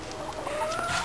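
Backyard chickens clucking and giving a rising drawn-out call, moderately close, with scattered soft clucks around it.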